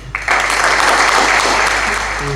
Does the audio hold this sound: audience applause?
yes